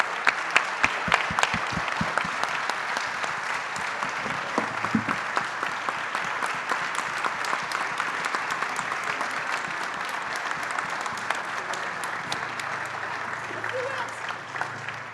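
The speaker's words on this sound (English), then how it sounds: "we should say big applause to Bruno" Audience applause for Bruno at an aviation industry talk at the Paris Air Show, sustained clapping with sharp individual claps at first, then a dense steady wash that holds loud to the end, faint talk underneath.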